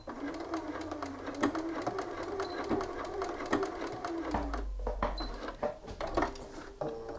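Sewing machine stitching a shirt sleeve placket, a soft steady mechanical whir with short stops and starts and light clicks, fairly quiet and close.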